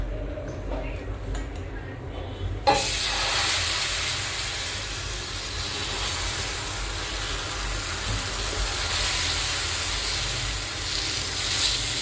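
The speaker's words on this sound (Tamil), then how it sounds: "இப்போ நம்ம தோசைக்கல்ல ஊற்றி எடுத்துடலாம் அடைய." Ragi adai batter poured onto a hot dosa griddle, giving a sudden loud sizzle that starts a few seconds in and continues as a steady broad hiss to the end.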